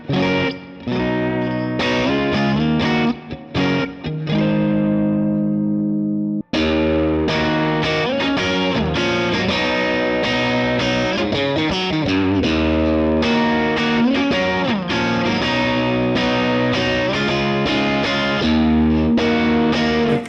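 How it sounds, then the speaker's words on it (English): Electric guitar through a Vox AC30 amp with reverb and some distortion, chords ringing out with a wash of echoing tail, a brief gap, then fuller strumming. "Let's get some reverb going and let's try this again."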